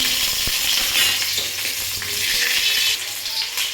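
Chopped green chillies sizzle fiercely in hot mustard oil, a dense hissing crackle that stays loud and continuous, broken by a sharp clink of utensil, with no voices.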